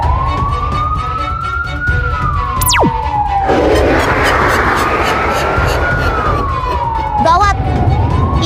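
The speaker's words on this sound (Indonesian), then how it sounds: "Lihat, Yuta, di depan ada mobil polisi." A police car siren in a video game wails in long rising and falling sweeps, loud and steady across the whole stretch, with other game noise underneath.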